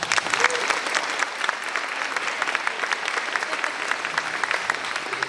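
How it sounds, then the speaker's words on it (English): An audience applauds at the Ocean County Teacher of the Year 2024 event, a steady, moderately loud roll of many hands clapping that holds evenly from start to finish. "Big round of applause for that."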